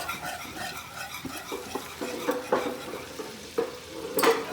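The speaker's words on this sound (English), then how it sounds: "Melt the butter slowly." Butter melting slowly in a pan for a roux, with a steady close sizzle and stirring scrapes, a few louder clinks of utensil against pan near the end.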